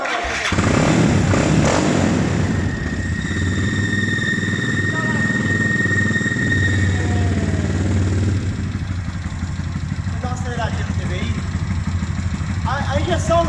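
A cold Honda Titan 160 motorcycle built out to 205cc with throttle-body injection starts up and idles with a rough mid-pitched rumble and occasional revs, while people talk nearby.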